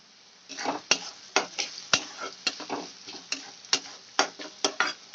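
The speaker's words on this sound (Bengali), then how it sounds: "এবার পেঁয়াজটা আমি সামান্য আরেকটু ভেজে নেব" Onions fry with salt and turmeric powder in a pan, stirred in quick rhythmic scraping strokes over a steady close sizzle, with no voices.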